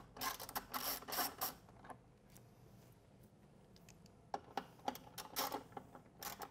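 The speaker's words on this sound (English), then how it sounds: "we'll start by removing these two side bolts." Metallic clicks and ratcheting from a tool loosening bolts on a Yamaha Star Bolt motorcycle fender, faint and close, in irregular bursts with a quieter stretch between them.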